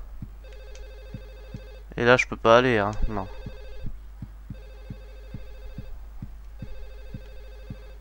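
An old-style telephone rings repeatedly in the horror video game Silent Hill 4: The Room, with evenly spaced bell bursts over a low drone and a soft ticking pulse, while someone briefly talks over it.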